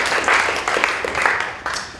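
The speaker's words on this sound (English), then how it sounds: "give a big round of applause to these 3" A press-briefing audience gives a short burst of applause for the panel guests. The clapping is dense and moderately loud, and it fades toward the end.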